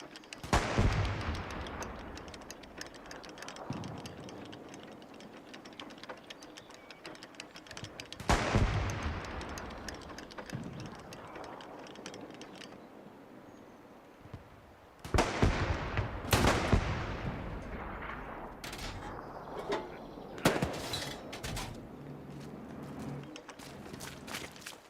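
World War II gunfire in the Xbox Series X game Hell Let Loose: sharp rifle and machine-gun bursts alongside heavy artillery-like booms, some close and loud, others distant, recurring in clusters across the scene.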